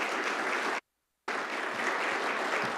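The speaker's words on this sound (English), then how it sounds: "You can clap for that one." Audience applause fills a legislative chamber at the Montana Legislature's formal address, a steady dense clapping that cuts out abruptly for a moment of silence, then resumes just as loud and continuous.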